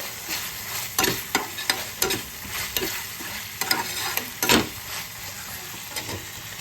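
Tomatoes stirred into chicken frying with ginger-garlic paste for biryani, a steady sizzle under repeated scraping knocks of a spoon against the pot, close and unaccompanied by speech.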